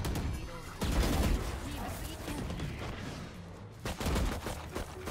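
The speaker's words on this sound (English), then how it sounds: "Where are my bullets going?" Gunfire in a video game: rapid bursts and volleys of shots, loud and close, with a short pause near the middle before another cluster of shots.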